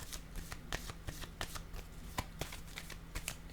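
Tarot cards handled and set down on a table during a card reading, with a string of soft, close paper taps and slides repeating across the clip and no talking.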